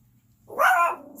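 A single short dog bark, sharp and fairly close, alone over faint background hum.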